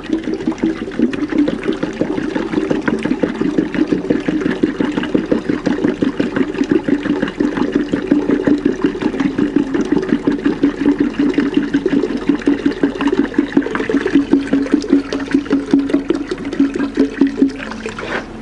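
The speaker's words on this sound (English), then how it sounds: "I'm going to put water in the bucket." Water pours steadily into a bucket holding submerged tools for a rust-removal electrolysis setup, a continuous loud splashing rush that lasts throughout with no talking.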